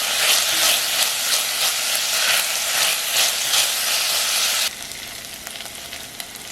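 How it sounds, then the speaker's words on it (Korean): Sliced onions sauté in olive oil with a little salt in a pot over low heat, a bright steady sizzle with faint stirring that drops noticeably quieter near the end. "냄비에 썰어놓은 양파를 넣으세요. 올리브 오일과 소금 2꼬집을 넣어 투명한 색이 되면서 부드러워질 때까지 약불로"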